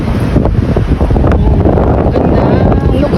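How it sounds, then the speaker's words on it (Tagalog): Strong wind roars steadily across the microphone, a loud, continuous buffeting rush with a faint low rumble underneath. "Ang lakas ng hangin."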